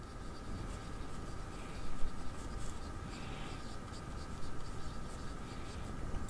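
A juicy oblique nib pen scratches softly across dotted notebook paper in short strokes, faint and close with a steady background hiss.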